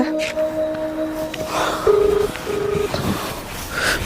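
A few steady electronic telephone dial tones beep in sequence, each held briefly, over a faint background hum; no one speaks.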